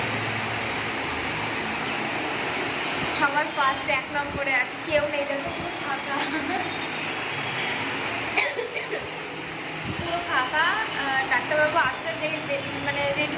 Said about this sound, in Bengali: এখানের একজন লোক পাখাটা চালিয়ে দিল